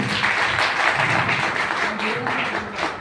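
An audience at an RCK marketing seminar in Firozabad claps, a dense continuous wash of applause lasting a few seconds, close and fairly loud.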